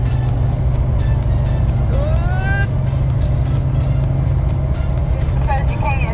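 A Chevrolet Duramax pickup truck accelerates with a loud, steady engine drone heard from inside the cab, a rising whine sweeping up partway through as people talk over it.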